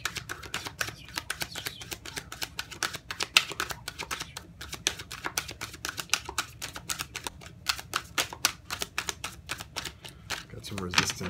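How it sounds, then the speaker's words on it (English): Cards from a Rider-Waite tarot deck being pulled and handled, a dense run of quick crisp snaps and flicks all the way through, close and steady, with a voice talking alongside. "I'm going to pull four cards and an overall energy for your soulmate first"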